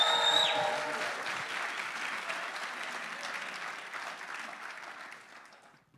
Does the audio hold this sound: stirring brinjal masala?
no